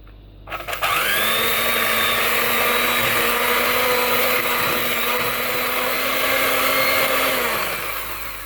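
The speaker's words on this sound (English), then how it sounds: "just mix quite thoroughly for about a minute or so" Electric hand mixer whirring steadily through muffin batter of butter, sugar, eggs and milk for banana muffins, a loud continuous motor drone starting abruptly after a brief clatter and holding for about seven seconds before easing off.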